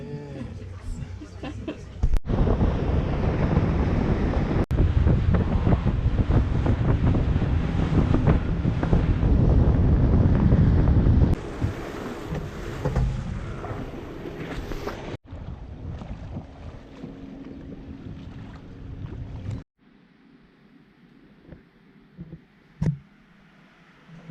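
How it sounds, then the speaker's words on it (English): Loud boat ride from Bali to Nusa Lembongan: engine rumble, rushing wind and splashing water fill the air, then the noise drops to a quieter hum near the end. "So we're on the boat now"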